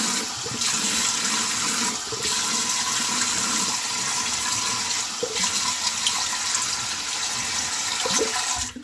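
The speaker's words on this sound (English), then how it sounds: "Just going to wash my face." Tap water runs into a bathroom sink while a face is washed after a wet shave, a steady rushing splash that surges and dips a couple of times, with no talking.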